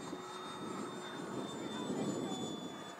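An E-flite Habu STS 70mm electric ducted-fan RC jet flies at about half throttle, giving a steady, continuous whooshing whine with a thin high tone that stays even for about three seconds, moderately distant, with no talk.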